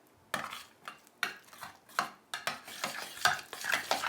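An egg is mixed into a quick five-minute pastry crust dough with a steady series of about ten rhythmic stirring strokes, each a short scraping swish in a bowl.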